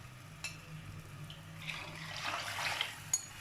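Water poured into a cooking pot while making Punjabi-style kadhi pakora, a soft splashing rush that builds toward the end, close by and fairly quiet, with no talking.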